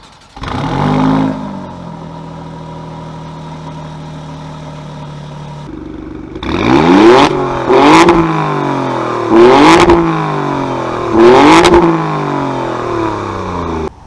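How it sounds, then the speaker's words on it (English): A 2023 Alfa Romeo Stelvio Quadrifoglio SUV idles with a deep exhaust note, then revs hard in four loud bursts, each rising and falling back toward idle. "I want to let the exhaust note do a little talking as well"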